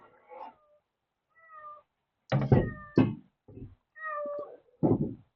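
House cat meowing indoors, a series of close, clear meows of varying length and pitch with short pauses between, some louder and sharper, alongside a couple of soft knocks.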